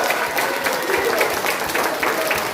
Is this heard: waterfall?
no